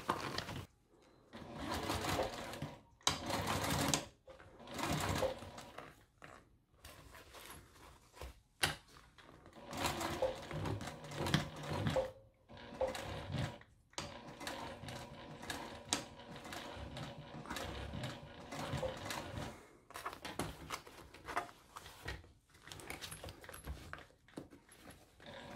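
Sewing machine top stitching through the layers of a Flora Burn shoulder bag, running in short close bursts of rapid needle chatter separated by brief pauses.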